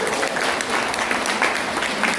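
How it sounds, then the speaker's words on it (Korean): Audience applause at a lecture forum, a full dense round of clapping from a seated crowd, loud and steady throughout the short stretch. "이럴 때 되게 박수 한번 주시더라고요."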